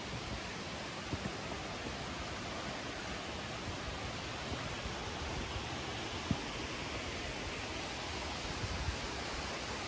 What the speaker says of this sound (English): we're just going to go and have a look at this waterfall because it's quite impressive